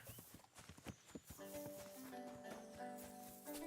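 Horse hooves clip-clop in the medieval video game Kingdom Come: Deliverance 2, a quick, close run of hoofbeats that settles into a steady walking rhythm under a soft sustained musical tone.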